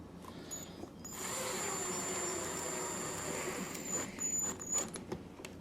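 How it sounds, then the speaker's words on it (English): Power drill whirring steadily as it drives screws into a cabinet door, one sustained run with a brief stop and a couple of short bursts near the end. "don't get crazy tightening your screws with your drill gun"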